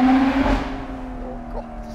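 A loud BMW M2 Competition engine roars close by at the start, its harmonic whine fading quickly as it passes, leaving a low rumble behind.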